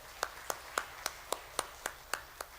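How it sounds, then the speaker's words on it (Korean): A lone person claps slowly and evenly, about nine crisp, close claps at a steady rhythm, as a prayer-meeting congregation is asked to applaud the worship team; the room is otherwise quiet. "다시 한번 더 예배팀을 위해서 우리가 축복의 박수 부탁드리겠습니다"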